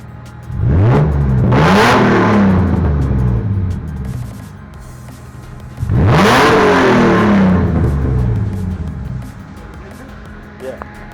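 A Nissan Skyline R31 engine fitted with nitrous revs up loudly twice, each burst climbing sharply in pitch then settling, with a quiet pause between.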